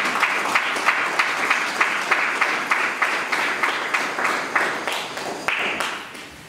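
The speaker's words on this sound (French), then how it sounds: "Acclamons pour le nom de Jésus" Church congregation at a Catholic Lenten Sunday Mass clapping in a steady rhythmic beat, dozens of hands together, fairly close and sustained, gradually fading toward the end.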